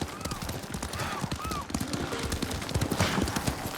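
Horse hooves clip-clop in a steady rhythm in the Ghost of Tsushima video game, with several horses moving together under faint background sounds.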